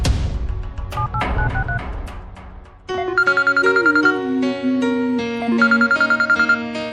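A film phone scene: brief tones give way to a loud, repeating electronic ringtone melody that rings steadily alone.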